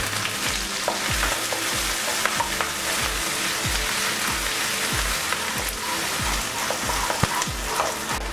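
Chopped capsicum lightly frying in a pan for masala pulao, a dense, steady sizzle with rhythmic scrapes of a spatula stirring through it, close and continuous with no voices.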